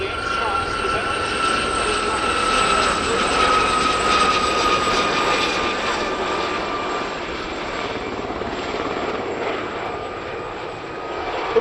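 An ex-Navy Sharks Gazelle helicopter with a fenestron tail flies at an airshow, its engine and rotor giving a steady, loud whine and drone under a commentator's voice.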